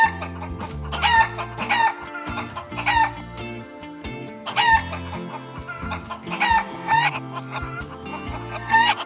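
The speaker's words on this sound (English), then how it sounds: "the barrage of chicken squawks and record skips exploded" Loud, busy run of chicken squawks, clucks and rooster-like crowing in repeated bursts, cut with abrupt stops like record-skip effects, filling the whole stretch without speech.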